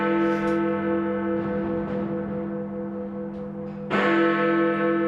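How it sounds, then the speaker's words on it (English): Big Ben's great bell in London striking at New Year, a deep resonant bong ringing out with a long humming decay before a second loud strike lands near the end. "That was the famous bell ringing in the start of 2018."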